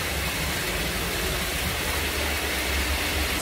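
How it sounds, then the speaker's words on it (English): Steady broadband rush of St. Peter's waterfall on a hike in St. Kitts, a continuous hiss of falling water heard fairly loud and unbroken, with no one speaking. "We're slowly approaching the waterfall."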